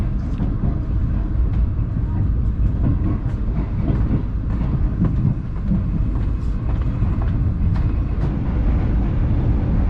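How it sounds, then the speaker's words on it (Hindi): A Pakistani passenger express train rolls through Nawabshah railway station, heard from onboard as a loud, continuous low rumble with steady wheel clatter and faint rhythmic clicks on the rails. "ट्रेन अभी हमारी नवाब शाह रेलवे स्टेशन से पास थ्रू हो रही है"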